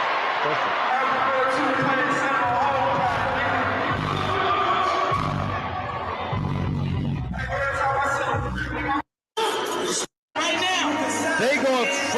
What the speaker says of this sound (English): They going crazy in the crowd right now. Everybody's singing this shit.